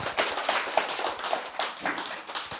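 An audience at a Korean lecture claps together in a dense, steady burst of hand claps lasting a couple of seconds, fairly close and loud.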